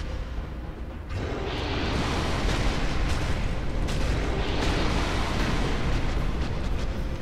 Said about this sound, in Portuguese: Olha lá essa explosão